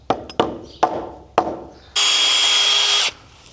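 Several sharp knocks lead into a power drill driving a greased screw into an old barn's garage door, one steady high whine lasting about a second.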